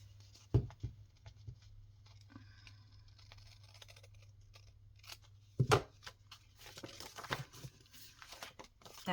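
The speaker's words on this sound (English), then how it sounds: "I'm just going to match that up, cut it the same." Scissors snip through paper while a junk mail journal is crafted, giving a few crisp cuts and rustling handling sounds over a low steady hum.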